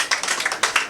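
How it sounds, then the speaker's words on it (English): Short burst of clapping from a small group at a 100th birthday party celebration, several quick uneven claps close by. "round of applause, everybody"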